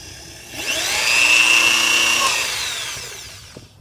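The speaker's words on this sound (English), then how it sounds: "So I'm just going to kind of hold it by hand and carefully mark it with the drill" A power drill whirs up close, its motor rising in pitch, holding steady for a couple of seconds, then winding down as its screw tip bites into wood to mark it, held by hand.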